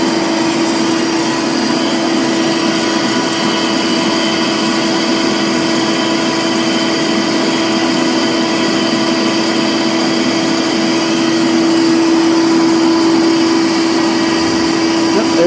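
A DC generator runs a historic elevator with a bottom-drive winding drum, giving off a steady, loud electric whine and hum that holds an even tone the whole time, with no talking.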